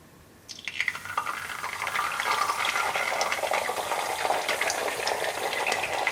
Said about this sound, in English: Watch out for the popping grease.